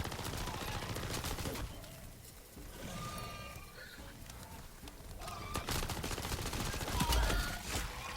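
Rapid automatic weapon fire in MW3 Zombies, dense bursts of gunshots cracking in quick succession, loud and close, with a short lull in the middle before the firing resumes.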